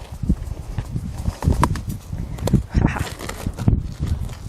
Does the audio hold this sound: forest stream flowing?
no